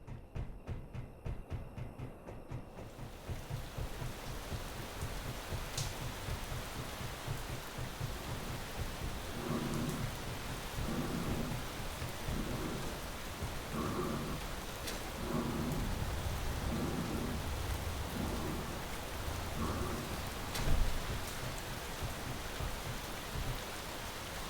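In Space Engineers, heavy rain pours steadily outdoors in a dense hiss, with rolling thunder rumbling at intervals and one sharper crack near the end; no talk.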